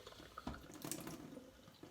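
About three tablespoons of water are spooned into the base of a slow-cooked beef and autumn vegetable stew, a faint, brief trickle and a few soft splashes heard close by in a quiet kitchen.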